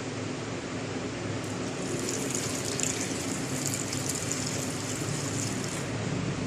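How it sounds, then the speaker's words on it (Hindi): Water poured from a glass into a pan of ridge gourd curry with tomatoes in a home kitchen, a steady rushing gush lasting several seconds, close and continuous, with no talk over it. "3 गिलास के करीब हम इसके अंदर हम पानी शामिल कर देंगे"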